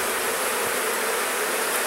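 Honey bees buzz in a dense, steady drone as comb is lifted off a hive with a hive tool, the swarm sound continuous and fairly loud throughout with no talking.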